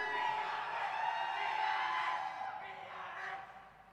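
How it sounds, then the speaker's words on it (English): Esports arena crowd at a Valorant Invitational match in Hyderabad, India, screaming and cheering for PaperReX, a sustained roar of many voices that fades slightly toward the end, distant and fairly quiet. "PaperReX boys, let me hear you scream!"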